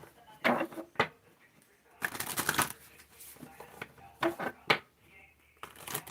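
A deck of playing cards is shuffled in several short riffling bursts, close and fairly crisp, with quiet gaps and faint room sounds between them.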